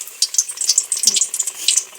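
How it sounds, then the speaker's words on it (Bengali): Malpua batter fries in hot white oil in a pan, giving a close crackling sizzle with irregular popping bursts throughout. "এবার মালপোয়াগুলো ভাজা হচ্ছে।"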